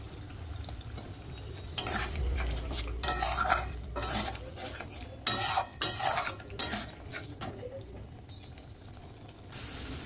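A spatula scrapes and clatters against a pan while spice masala with green chili is sautéed for doi katla fish, in bursts of stirring separated by quieter pauses, with no voices.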